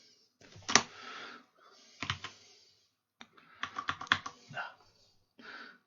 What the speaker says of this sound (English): if I just type